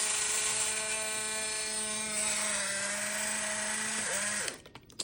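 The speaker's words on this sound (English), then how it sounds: "you're gonna hear the continuous motor." Polaroid SX-70 instant camera motor running continuously after repair of a broken plastic coupler, a steady close, loud mechanical whine with a high buzzing tone that holds for about four seconds, then winds down and stops abruptly.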